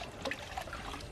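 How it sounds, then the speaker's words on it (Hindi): Water is poured in a household setting, a soft splashing trickle with small bubbling bursts, fairly faint and close. "अब पानी डालो"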